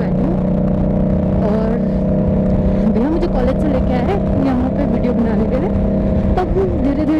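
A Harley-Davidson motorcycle rumbles steadily while riding, a continuous low engine drone with shifting revs, and someone talks over it throughout.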